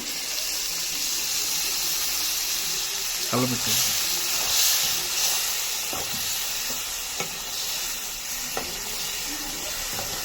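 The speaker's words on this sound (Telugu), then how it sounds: "ఈ విధంగా వేగిన తర్వాత చికెన్ ఇప్పుడు మనం ఇందులో 1 గ్లాస్ వాటర్ అనేది యాడ్ చేస్తున్నాను" A glass of water hits hot chicken curry masala frying in a pan, giving a steady close sizzle and hiss with a few stirring knocks.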